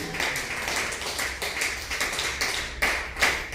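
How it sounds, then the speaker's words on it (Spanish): Church congregation clapping during a Spanish-language sermon, a dense, moderately loud patter of many hands with a few sharper claps standing out near the end. "Aplauda fuerte el nombre de Jesús"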